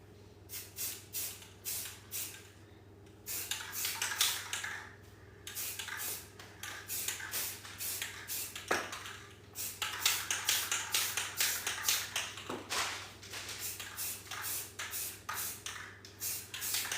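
An aerosol can sprays paint onto a dance studio mirror in repeated short hissing bursts, close and sharp, separated by brief pauses and light handling taps over a low steady hum.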